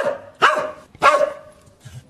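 Two sharp dog barks, close and loud, about half a second apart, then a faint yip trailing off at the end.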